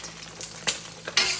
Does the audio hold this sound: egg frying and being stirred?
yes